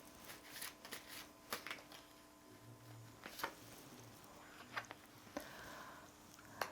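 Tarot cards are shuffled and handled, producing soft, irregular flicks and riffling patters close by. A few brief low tones sit underneath, and no one speaks.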